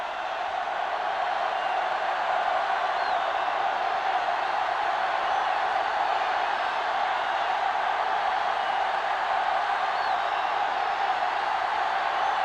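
A stadium crowd in the video game Madden 2005 at a college football game, a steady, distant roar of many voices that holds even and unbroken throughout with no individual shouts standing out.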